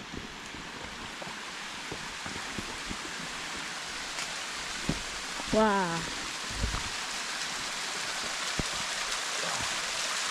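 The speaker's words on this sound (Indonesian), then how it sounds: "Ketemu lagi air terjun." A waterfall rushes as a broad, steady wash of falling water heard up close, with a person's brief exclamation partway through.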